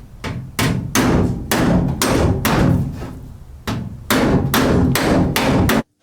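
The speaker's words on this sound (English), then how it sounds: "So I'm just going to hammer it smooth a little." A beat-up metal edge on a 1930 Ford Model A body is hammered smooth, with loud rapid metallic blows in quick bursts, a brief pause, then another run of strikes.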